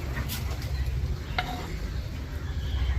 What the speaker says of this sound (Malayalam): കളറ് ഒന്ന് പതുക്കെ ഇളക്കി കൊടുക്കാം